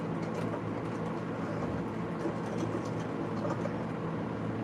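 A small aircraft taxis around a backyard, and its engine gives a steady, continuous rumbling drone that stays even for the whole stretch.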